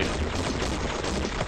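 Gunfire in a shooting video game, a dense, continuous rattle of loud shots and booms filling the whole short moment with no pause.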